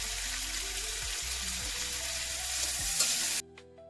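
Cumin paste and ginger paste fry in a pan with a steady, broadband sizzle and a few soft scraping stirs, then the sound drops out abruptly near the end, leaving a quiet low hum.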